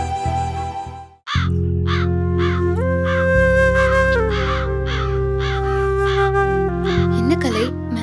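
Crows caw repeatedly in quick, rhythmic bursts over a steady, loud droning tone that continues throughout.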